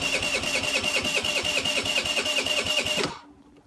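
A Direct Bikes DB50QT-A 50cc retro moped engine starts up with a steady buzzing, rapidly pulsing whir that runs loud and close for about three seconds, then cuts off abruptly into near silence.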